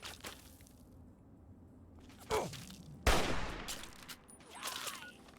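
Gunfire in the Fallout 3 video game, a few loud sharp cracks spaced seconds apart, each with a brief rumbling tail, over quiet background.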